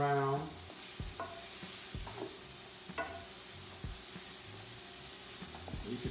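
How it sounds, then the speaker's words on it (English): Vegetables seasoned with smoked paprika are stirred in a skillet: quiet, scattered scrapes and knocks of a utensil against the pan over a faint, low sizzle, with a brief voice-like tone at the very start. "stir that around"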